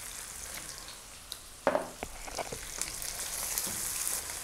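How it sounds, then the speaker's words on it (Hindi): Mutton frying in oil with whole cloves, black peppercorns and cinnamon pieces, a steady soft sizzle with a few sharp stirring scrapes and clatters near the start, fairly quiet throughout. "गोश्त को हम अच्छे तरीके से फ्राई कर लेंगे"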